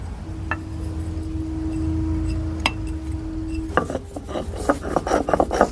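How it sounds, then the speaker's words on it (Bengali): Cumin seeds are ground on a grinding stone. A low hum comes first, then close, rhythmic rasping strokes of stone scraping on stone that grow faster and louder toward the end. "এখানে আমি বাটনাতে জিরেটাকে বেটে নেব"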